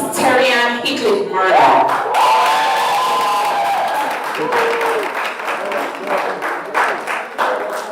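Audience at a national debating championship final applauds for a college team, a loud sustained burst of clapping and cheering mixed with voices and shouts throughout.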